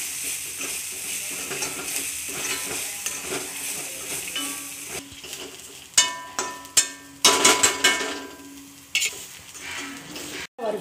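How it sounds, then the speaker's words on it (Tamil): Shallots and curry leaves fry in a pan with a steady sizzle, then a spoon scrapes and stirs in bursts of clattering strokes close up, with no talk. "கருவேப்பிலை கொஞ்சம் போட்டு இதை வந்து நல்லா வறுக்கணும்"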